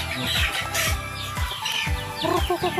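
Chickens cluck close by in quick repeated bursts, loud and lively across the short stretch.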